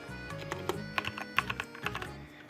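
Typing on a computer keyboard to enter a line of JavaScript code, a steady run of crisp, close keystrokes in an irregular rhythm, moderately loud with no one talking.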